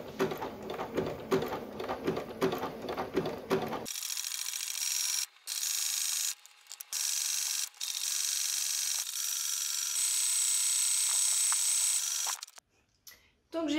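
Domestic sewing machine running an overlock stitch around the edge of a fabric piece, a steady close mechanical whir in several runs broken by short pauses, after a brief stretch of talk at the start.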